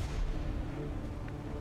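Heavy gunfire from the Shredstorm cannon in XCOM 2, a dense, loud, continuous low rumble of rapid shots and booms with no break through the short burst.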